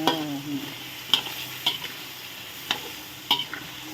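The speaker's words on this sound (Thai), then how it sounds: "ผัดไปผัดมาให้มะเขือสุกครับหน่อย" Eggplant being stir-fried in a pan for a catfish curry-paste dish, a steady soft sizzle with a few sharp scraping clicks of a utensil against the pan at irregular intervals, close and moderate in level.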